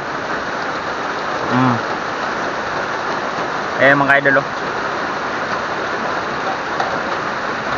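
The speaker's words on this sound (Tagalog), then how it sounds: "lakas ang mga idol, ulan dito sa amin mga idol." Heavy morning rain pours steadily in a rainy-season downpour, a dense, even hiss close around, while someone speaks briefly over it.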